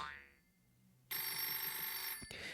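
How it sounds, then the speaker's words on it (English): A desk telephone in a video game rings shrilly, a loud sustained bell-like trill bursting in after a brief quiet moment and continuing to the end with a short break. "When the phone on his desk rings, dragging him out of his thoughts"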